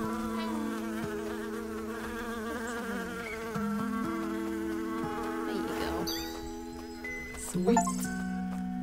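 Bees buzz in Snufkin: Melody of Moominvalley, a soft, steady insect drone under layered game music, with a brief louder chime near the end.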